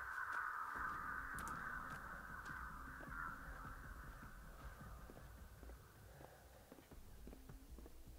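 A crow caws in the Dead by Daylight video game, a few harsh calls early on over quiet ambient game sounds and soft footsteps, fading to a low background.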